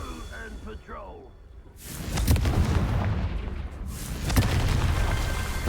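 Confringo blasting spells in the video game Hogwarts Legacy go off as two heavy, rumbling explosions that swell and hang with a long roar, following a brief voice cast over a quieter stretch.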